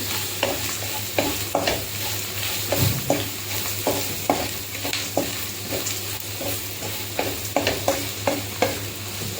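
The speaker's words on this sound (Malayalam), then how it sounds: "ഇനി അതിൻ്റെ പച്ചമണം ഒന്ന് മാറിക്കഴിഞ്ഞാൽ ഉടനെ തക്കാളിയും കൂടെ ചേർത്ത് നന്നായിട്ട് വഴറ്റിയെടുക്കാം." Turmeric and chili sauté in a pan for a tomato chutney: a steady sizzle of frying with a spoon scraping and stirring in a regular rhythm, close and fairly loud, with no talking.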